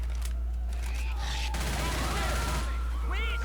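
Rapid bursts of gunfire from the zombie shooter game Left 4 Dead 2, loud and dense, with game sound effects and a voice heard over the shots.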